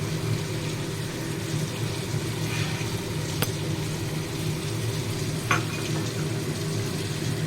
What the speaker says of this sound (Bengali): এবার মাছটা দেখুন প্রায় হয়ে এসছে এবার এর মধ্যে আমি দইটাকে দিয়ে দেব